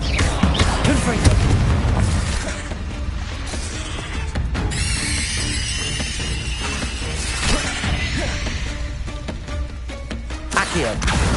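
Booming spell blasts from the Confringo explosion spell in Hogwarts Legacy, a dense, loud run of crashes and bursts layered with game music and effects throughout, with a voice calling out briefly.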